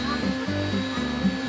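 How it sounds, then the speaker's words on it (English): A hotel hair dryer at Europa Park blows in a steady, loud broadband whoosh with a constant motor hum, continuous throughout without a break. "Your dryer is a big dryer,"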